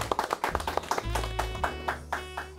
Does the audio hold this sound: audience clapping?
yes